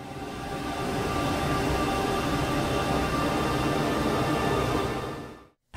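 Stretched, overlapping layers of several songs merge into a dense, dark, roaring wash. The sound holds steady and loud for about five seconds, then fades and cuts off.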